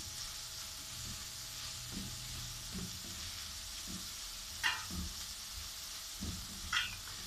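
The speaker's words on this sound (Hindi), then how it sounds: "अब हम इसको थोड़ा सा मिक्स करेंगे कीमे में" Capsicum and minced meat sizzle in a pan as they are mixed together, a steady soft hiss with a few brief scraping stirs, fairly faint and with no talking.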